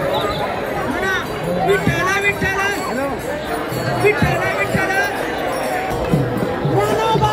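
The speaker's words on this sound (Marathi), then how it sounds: "रस्त्याच्या दुतर्फा लोक आता फुल गर्दीने चालत आहेत." A large crowd of pilgrims walks along the road in the palkhi procession from Alandi, a dense babble of voices and chatter with rhythmic percussive beats, while someone talks over it.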